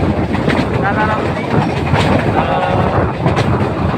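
Inside a large moving passenger train, a continuous loud rumble with rhythmic clattering of wheels over the rails, close and enveloping, with voices talking over it.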